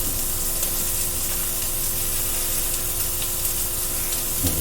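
Sausages sizzle steadily in a hot pan, giving a continuous close hiss with no pauses and no talking.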